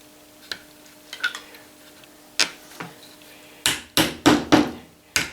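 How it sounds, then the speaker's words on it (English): Hammer tapping onto a silicone mat while assembling a wooden burr puzzle, a few scattered light knocks early on, then a cluster of sharp, close, louder strikes in quick succession near the end. "when I hammer into this silicon mat"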